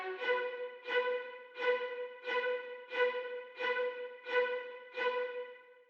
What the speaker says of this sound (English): I played out these violin stabs.